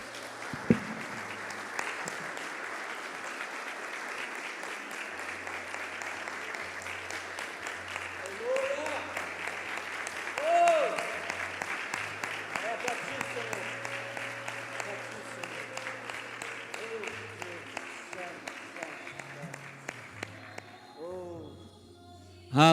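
Congregation clapping during a church family celebration service, sustained applause for over twenty seconds with shouts and a voice speaking over it, plus a low hum underneath, dying away near the end.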